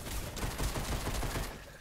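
Gunfire in Fortnite's zombie mode, a pistol firing in a dense, rapid stream of loud shots that fills the whole short stretch, with no voices over it.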